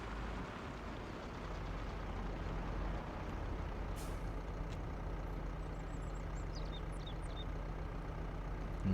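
In Farming Simulator 22, a truck pulling a trailer rumbles at low speed into a biogas parking lot, a steady engine drone with a short air-brake hiss midway, fairly quiet and continuous.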